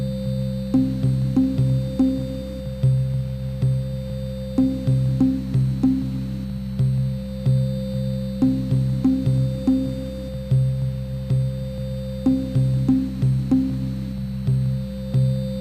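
A looping 8-bit organ soundscape from an Amiga 500 running Protracker, four tracks built from MicroKorg and Yamaha Reface samples, with sustained drones under a repeating pulsing pattern.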